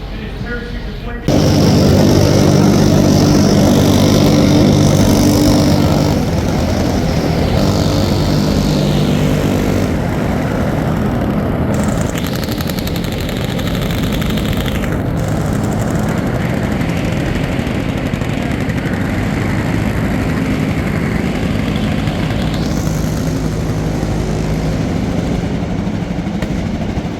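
A helicopter flies over a Special Operations Forces event in Tampa, Florida, during a parachute demonstration, making a loud, steady rotor and engine drone that persists throughout while people talk over it.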